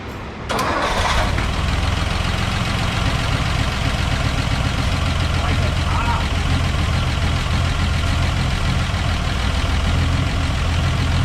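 Engine of a 1959 farm truck cranking briefly and catching, then settling into a steady, loud, continuous idle close by.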